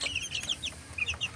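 A hen clucks low and steadily while chicks peep in high, rapid chirps close by.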